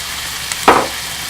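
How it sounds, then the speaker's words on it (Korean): Sauce hits a hot pan of cooking vegetables for yaki soba, a single short burst of loud sizzling that flares up and quickly dies back to a low hiss. "어느 정도 야채가 익으면은 아까 준비한 소스를 먼저 다 부어주시고"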